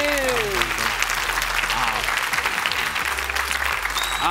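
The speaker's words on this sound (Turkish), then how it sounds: "Bu alkış yeter mi?" Audience applause on a Turkish television entertainment show, a dense steady clatter of clapping hands lasting throughout, loud and continuous, with a voice and some tonal sounds briefly heard over it.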